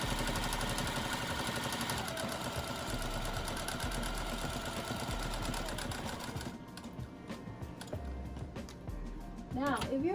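A sewing machine hums and chatters rapidly at close range for several seconds, then stops, followed by quieter handling sounds.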